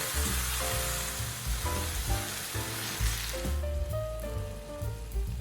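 Meat and tomato puree sautéing in a pan for a Japanese rice croquette filling: a steady, loud sizzle that runs throughout under background music.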